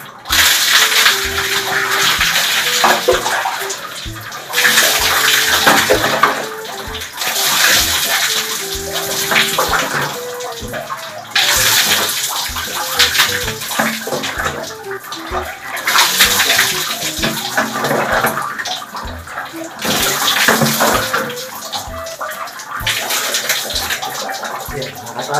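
Water poured in repeated scoops over a person bathing without a shower, each pour a loud splashing rush lasting a couple of seconds, separated by brief quieter gaps, close by throughout.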